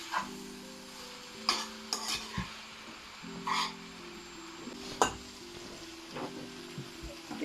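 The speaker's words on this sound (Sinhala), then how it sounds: "සෝස් ටික එකතු කරලා හොඳට කලවම් කරන්න." Chicken chow mein noodles and sauce being stirred in a pan, with soft scraping and clinks over a faint sizzle and a few sharper utensil knocks against the pan, close and fairly quiet, no talking.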